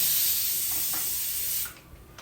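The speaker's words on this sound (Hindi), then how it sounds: "और उधर कुकर में सीटियाँ भी आ रही है।" A pressure cooker cooking rice lets off a loud, steady steam hiss that fills most of the clip, then cuts off near the end, leaving quiet kitchen sounds.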